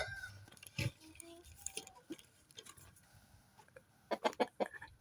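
An Araucana rooster clucking in a poultry pen, giving scattered short clucks and calls close by, over a faint background hum with a few soft knocks.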